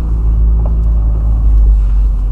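A turbocharged Lada Kalina with about 150 horsepower cruises gently on minimal boost, a steady deep engine drone with road rumble heard from inside the cabin, even and unbroken throughout.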